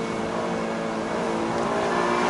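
A 2018 Alfa Romeo Giulia Quadrifoglio engine in race mode, heard as a steady, tonal engine drone that rises slightly in loudness, close and continuous with no voices.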